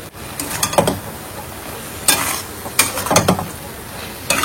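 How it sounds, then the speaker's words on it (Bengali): Vegetables seasoned with salt and turmeric get stirred in a pan, with scattered scraping and clattering strokes of a spoon against metal, a few sharp louder scrapes over a quiet background, no talking. "এই যে সবজিগুলোকে মিলিয়ে দিচ্ছি, বেশি আর ভাজবো না।"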